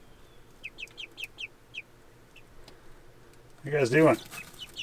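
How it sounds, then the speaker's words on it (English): Young chickens cluck softly in a row of short calls from nesting boxes, nearby but quiet, then a person briefly speaks over them. "Chickens."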